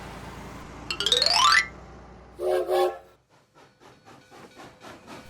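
Cartoon train sound effect for young children: a rising whistle-like sweep, then a pair of loud horn toots, followed by a softer rhythmic chugging pattern, with no talking.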